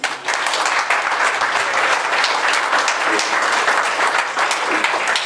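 An audience at a community kickoff event claps for several seconds, a dense, steady burst of applause that starts sharply and holds at an even level.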